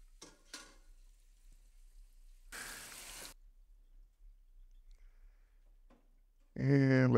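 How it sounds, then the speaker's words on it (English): Blueberries are rinsed in a colander under running water for about a second, a brief loud splashing hiss amid a few small clatters, with a voice speaking at the end. "I'm going to use a colander to quickly rinse"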